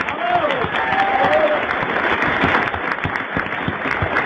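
A large radio-show studio audience applauds steadily throughout, dense clapping filling the whole stretch without letup.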